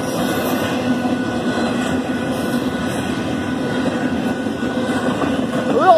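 Union Pacific 8523 freight train passing a rural grade crossing in Saint Elmo, Illinois, a close, steady roar of rolling cars with a ringing crossing bell and a brief squeal near the end, and voices faintly underneath.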